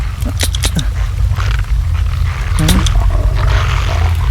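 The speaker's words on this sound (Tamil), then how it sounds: "இது காட்டு நாய்." Loud, low growling and rough snarls from a wild dog, continuous and close, with a few sharp higher yelps mixed in.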